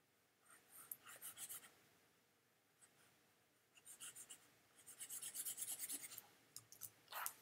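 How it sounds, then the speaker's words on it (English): Pen nib drawing on a Wacom tablet at close range, with quiet bursts of rapid scratchy strokes separated by brief pauses, the loudest stretch of strokes near the end. "I'm using my Wacom tablet here with the pen to do this"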